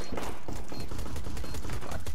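Gunfire in the video game CS:GO comes as a dense, continuous burst of rapid shots, loud and close, with layered reports blending into a steady crackling barrage.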